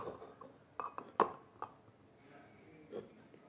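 Drinking glasses clinking as they are stacked into a pyramid, a handful of light glassy taps and chinks spaced irregularly, close and fairly quiet, with a soft voice murmuring briefly between them.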